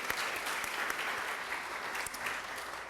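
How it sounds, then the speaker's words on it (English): Audience applause at a district community event, steady dense clapping from a crowd throughout, moderately distant and even in level. "And I'd like to give a special applause to Mary."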